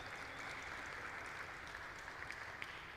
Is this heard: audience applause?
yes